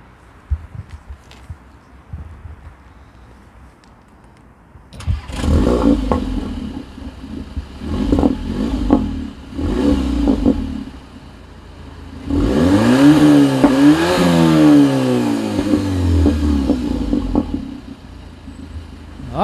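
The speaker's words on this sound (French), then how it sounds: "je pense que là on est parti pour écouter le son moteur" A 2022 Audi A1 with a Milltek exhaust idles quietly, then revs hard in several sharp bursts before a long rising and falling rev, loud with a raspy sporty exhaust.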